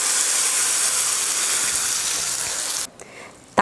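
Hot tempering of mustard seeds, urad dal and curry leaves in oil poured into onion chutney, giving a steady loud sizzling hiss that cuts off sharply near the end, with no talk.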